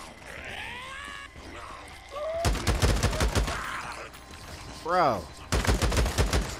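Rapid bursts of gunfire at zombies in Days Gone, loud and clustered in volleys, with someone talking between shots and growling creature sounds in the mix.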